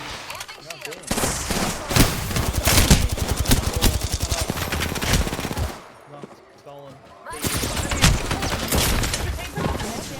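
Sustained automatic gunfire in Apex Legends during a ranked match, dense rapid bursts filling most of the stretch with a brief lull near the end before shooting resumes, loud and close, with a player talking over it.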